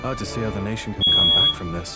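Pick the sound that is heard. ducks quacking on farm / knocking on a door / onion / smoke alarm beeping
smoke alarm beeping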